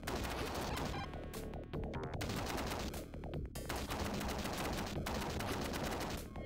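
Rapid bursts of gunfire from the Mega Drive game Demolition Man crackle almost nonstop and loud, with a few short pauses between volleys and occasional heavier crashing hits.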